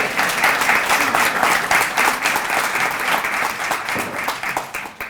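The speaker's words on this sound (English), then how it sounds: "I'm going to pause, and you're supposed to applaud." An audience at an annual community foundation gathering bursts into sustained applause, steady, dense clapping from many hands filling the room for several seconds before starting to thin out near the end.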